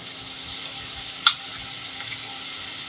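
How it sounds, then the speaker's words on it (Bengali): Ginger, garlic and green chili paste goes into a hot pan for river tangra fish, bringing a steady, even sizzle throughout, broken by one sharp close clack in the middle, no voices. "আদা রসুন আর কাঁচা লঙ্কা বাটা সেটা দিয়ে দেবো"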